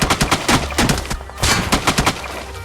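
Rapid bursts of gunfire from a battle royale video game, a 1v4 shotgun fight, come as loud repeated shots in quick clusters with brief gaps, close and dominant, with no talk over them.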